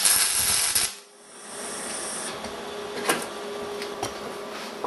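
MIG welder laying short tacks with 1mm wire on a steel workpiece: a loud crackling hiss for about a second, then quieter steady buzzing with a few brief sharp spits, close by.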